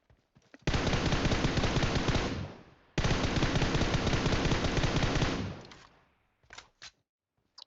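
Sustained automatic gunfire from a machine gun in a mobile shooter game, two long loud bursts back to back, followed by a few short isolated shots near the end.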